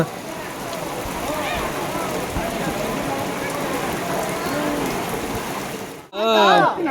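Steady rain falls in a village, a dense hiss running under people talking throughout, then a sudden louder burst of voices near the end.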